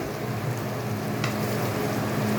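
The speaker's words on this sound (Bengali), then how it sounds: "সব কিছু একসাথে নেড়ে দিয়ে" Fish with potatoes and eggplant frying in a pan for a muorola chacchori, giving a steady, dense sizzle throughout with one brief scrape of stirring partway through. No voices.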